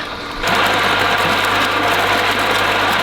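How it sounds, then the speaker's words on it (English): A water pump on a rural homestead in Portugal starts up after priming and runs steadily, a loud continuous mechanical hum and whirr with a low steady tone, close by and without talk. "after several tries and efforts at priming the pump, I finally got it working and it's pumping away."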